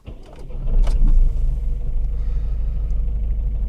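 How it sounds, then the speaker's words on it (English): A Volvo 1.6 diesel (D2) car engine, with its fourth injector unplugged, cranks and catches with a loud burst, then settles into a steady, low, close rumbling idle. "Just start the car again."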